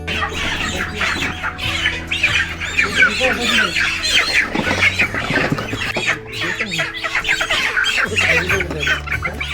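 Dense, continuous clucking and squawking from a large flock of poultry at a wholesale chicken farm business, with roosters among them; loud and close throughout, busy and overlapping, with faint voices in the background.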